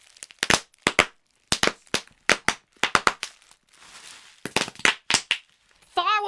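Bubble wrap popped by hand in rapid sharp cracks, mostly in bursts of two or three, loud and close, with a brief rustle of plastic midway and a short voice at the end.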